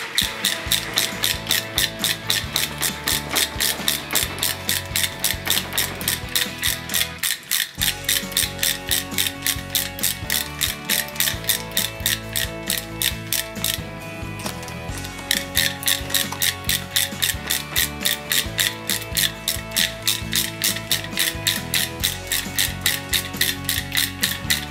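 A ratchet rapidly clicks while tightening the cam tensioner bolts on a motorcycle, a loud and close continuous metallic pawl chatter. It pauses briefly twice and then resumes at the same brisk rhythm, with no talking.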